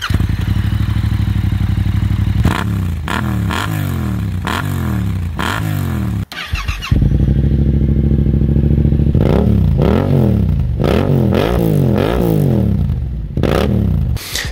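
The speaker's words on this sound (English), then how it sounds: "Now I need to take this out on the street so I can hear what this bike sounds like without that baffle." A 2022 Yamaha MT-07 motorcycle runs with its exhaust baffle removed, revving loudly in repeated sharp bursts that rise and fall, with a brief cut near the middle before more throttle blips follow, close and alone.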